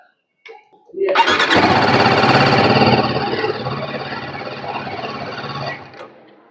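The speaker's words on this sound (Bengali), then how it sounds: "বাইকটা আমি স্টার্ট করে দেখিয়ে দিই" A TVS Apache RTR 310 motorcycle engine cranks and fires up, then settles into a loud, steady idle close by that drops slightly before cutting off.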